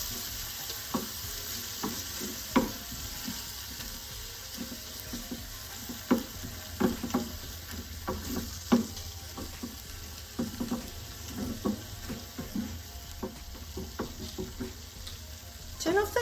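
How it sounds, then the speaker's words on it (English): Ricotta, lemon and lemon zest being stirred into a penne pasta sauce in a pan, soft sizzling with repeated scraping and clinking strokes of a spoon at an irregular pace, close and fairly quiet. "Now add the 50 grams of ricotta. The lemon and lemon zest."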